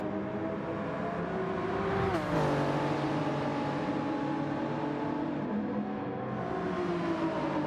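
Toyota Supra race car engine in a racing video game at Fuji, a continuous revving drone with a sharp pitch drop from a downshift, then climbing again under steady acceleration.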